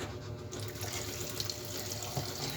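Tap water runs steadily into a sink as java plum fruit is washed under the stream, a soft continuous splash with no talking.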